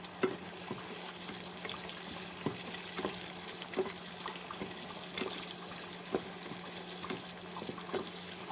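Onions frying in hot oil with cumin and bay leaf in a home kitchen pan, a steady soft sizzle with faint stirring clicks throughout, fairly quiet and close.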